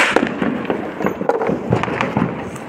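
Diwali firecrackers burst in a rapid irregular series of sharp pops and crackles, loud and fairly close, overlapping one another in a dense, continuous crackling barrage.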